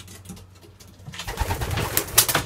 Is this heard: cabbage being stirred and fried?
no